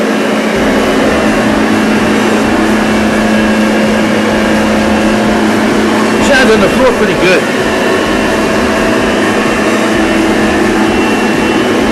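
A new Hoover Platinum Collection vacuum cleaner running on its low setting gives a steady, loud broadband whir throughout, while a person talks over it.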